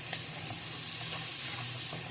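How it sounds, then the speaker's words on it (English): Onions sizzle over low heat in a pan, a soft, even crackling hiss that carries on without a break. "There, you can hear it sizzling, which is a good sign."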